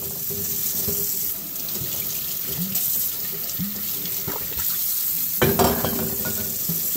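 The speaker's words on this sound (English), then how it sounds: "stick it in your sink full of hot soapy water" Water running and sloshing in a kitchen sink full of hot soapy water as plastic bottles are put in to soak, with steady tap flow, splashes and clinks of bottles moving close by.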